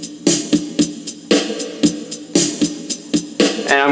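A programmed keyboard backing beat with punchy drum hits in a steady, looping rhythm, loud and close, with no voices over it.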